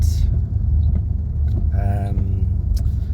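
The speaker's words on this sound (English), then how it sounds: "mufflers put on the back, I think, so it's a little bit gruntier sounding" Mercedes S550 engine rumbling through aftermarket mufflers, a steady deep low drone that stays loud and close for the whole stretch, with no voices over it.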